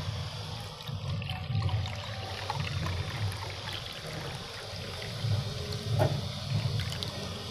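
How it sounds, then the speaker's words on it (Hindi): Hot water poured out for pet pigeons, a steady splashing, trickling flow that continues throughout with small surges, heard close. "डाल दिया हमने गरम पानी"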